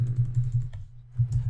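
Quick clacking keystrokes on a computer keyboard while coding a VR Space Invaders game in Unity, a brisk run of taps, a short pause, then a few more, close and clear.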